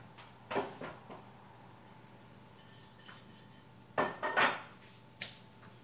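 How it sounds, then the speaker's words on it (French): A spoon stirring fresh yeast, sugar and warm milk in a bowl makes a few scattered scrapes and clinks. They come in two short bursts, close and fairly faint, against a quiet room with no talk. "La levure fraîche, le sucre et le lait chaud. Je remue bien"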